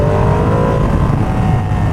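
A motorcycle engine revs hard under throttle, a loud, close, sustained roar with rising engine pitch and no pause.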